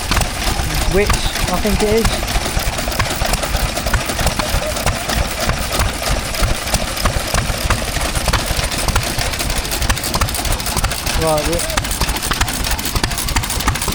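A Wit stationary engine driving a water pump at an outdoor steam and craft fair at Netley Marsh gives a steady, fast chugging beat up close, while someone speaks briefly over it.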